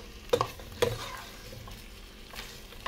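Native chicken sinigang with tomato stirred in a pot, two sharp clanks of a utensil against the pot early on over a soft simmering sizzle, then a quieter scrape later; no speech.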